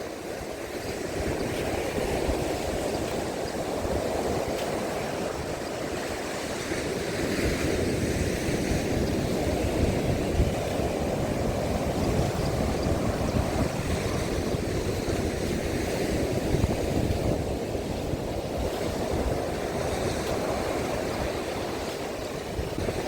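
Steady roar of rough surf from a stormy sea at Odesa, waves breaking continuously with strong wind rumble over the microphone and no talking.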